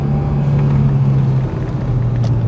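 A manual car's engine holds a steady, loud droning hum through a heel-toe downshift from fifth to second gear, with a slight dip and shift in pitch midway, no talk over it.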